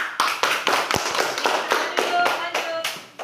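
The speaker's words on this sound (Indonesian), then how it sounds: "tepuk tangan." A small group in a classroom claps in rhythmic, evenly spaced bursts of sharp hand slaps, about a dozen strong beats in quick succession, fairly close with faint voices underneath.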